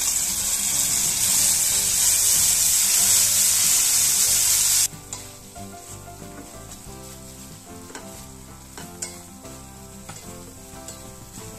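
Ground masala for kaju curry dropped into hot oil spiced with cinnamon and cardamom, a loud hissing sizzle that cuts off abruptly to a softer spluttering fry with light stirring.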